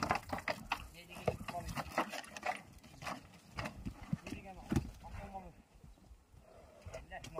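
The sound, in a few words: horse being restrained and moving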